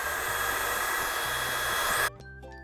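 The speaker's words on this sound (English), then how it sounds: "so blow dryer was an abject failure" A handheld blow dryer runs loud and steady to heat an old price sticker, then switches off abruptly near the end, leaving a faint low hum.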